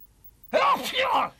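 A single sharp sneeze bursts out of silence, close and fairly loud, ending quickly.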